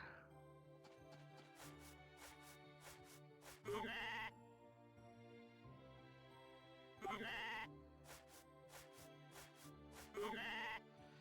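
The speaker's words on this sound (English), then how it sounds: "I have the laziest goat on the planet." A goat in the farming video game Story of Seasons: A Wonderful Life bleats in three short bursts spaced a few seconds apart, over soft, steady game music.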